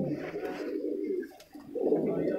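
Golden jira pigeons coo up close in two low, throaty bursts separated by a brief pause, with no voices over them.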